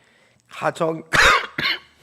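Coughing and throat clearing from people in a congregation during a Sunday church worship service, a few short harsh bursts close together alongside speech.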